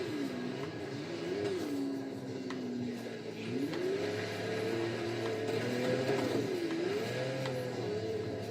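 A virtual Audi Quattro drives through the snowy Blizzard Mountain area of Forza Horizon 3, its engine note droning steadily and rising and falling in pitch as it revs and shifts, loud and continuous with no talk.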